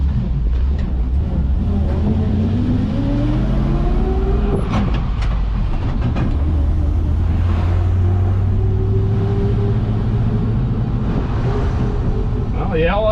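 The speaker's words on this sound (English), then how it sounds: "the LS definitely has enough grunt for it" An LS V8 swapped into a square body truck drones low and loud from inside the cab while driving, its pitch climbing and falling as it accelerates and shifts, with someone talking over the engine noise.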